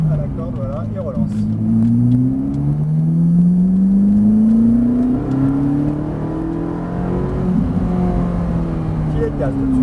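A car engine revs up and down as it accelerates around a race track, braking and powering out of corners, its pitch rising in long sweeps, loud and close, with someone talking over it.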